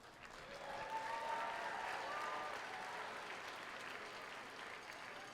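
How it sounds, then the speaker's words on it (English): An audience at a 2016 FRC robotics district event opening ceremony in Mount Vernon claps for parents, a moderate, steady wash of applause that swells early and holds evenly throughout, with no speech over it. "you need to give your parents a round of applause"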